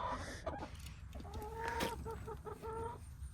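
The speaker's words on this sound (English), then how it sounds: "we've got all of our 2-year-old laying hens that are also laying for us" Two-year-old laying hens clucking inside a chicken coop near the nesting boxes, a close, continuous series of short, repeated clucks and calls.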